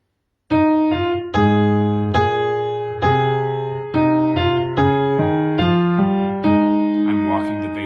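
Piano playing the melody of the gospel song Just Over in the Gloryland with a running bass line walking beneath it, a steady series of struck notes and chords ringing close without speech.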